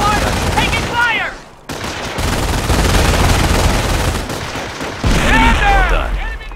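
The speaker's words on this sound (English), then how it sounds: "Taking fire!" Dense battle gunfire in the video game Company of Heroes: sustained rattling machine-gun bursts and rifle shots, loud and continuous, with shouted voices breaking through at the start and end.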